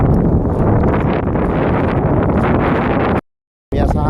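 Loud, steady wind buffeting an outdoor microphone, a dense broadband roar that runs almost unbroken before a brief dropout near the end.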